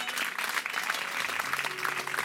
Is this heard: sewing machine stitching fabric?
no